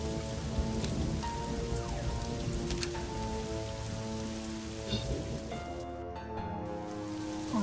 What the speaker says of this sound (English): That won't work that well in the rain.